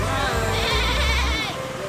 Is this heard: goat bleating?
yes